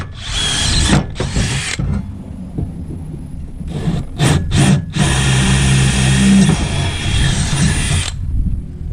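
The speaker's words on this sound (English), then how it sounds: "So now that I've got a center hole, we'll go ahead and drill it out." A power drill bores out a cast aluminum step bracket for a 4th-gen RAM sidestep install, starting with short bursts and then running one long, loud grinding drill pass.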